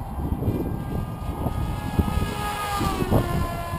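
An RC airplane engine runs at full throttle outdoors, a buzzing, rising whine that stays steady and moderately loud as the aircraft climbs.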